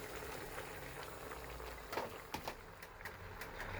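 Vegetables simmer in a curry pot with a soft, steady bubbling and sizzling, and a few faint scraping stirs and clicks come through near the end.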